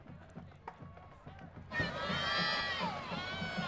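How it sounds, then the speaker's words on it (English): Crowd cheering in the stands at a high school football game between Friendswood and Shadow Creek, starting as quieter crowd noise and surging into a loud, sustained roar with shouting voices. "I like when your mic's on because I can hear the crowd right there."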